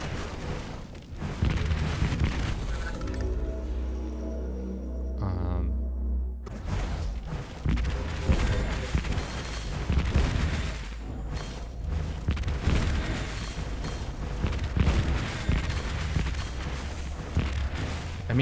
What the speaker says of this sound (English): This is like more of an explosion.